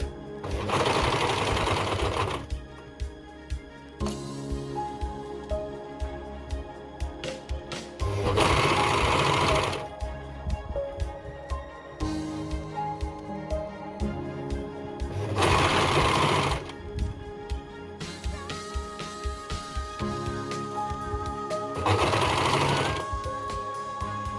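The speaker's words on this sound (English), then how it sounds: "if you don't have an overlocker, you could use the normal sewing machine using the zigzag." A sewing machine or overlocker stitches baby pants with straps, sized 3–6 months, in four loud, steady bursts, with soft background music in the quiet gaps between runs.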